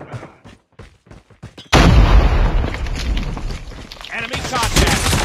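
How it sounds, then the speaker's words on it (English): Grenade explosion in the mobile game Call of Duty Mobile, a sudden loud boom that erupts and rumbles on amid scattered gunfire, preceded by short bursts of in-game voice chatter. "Grenade out."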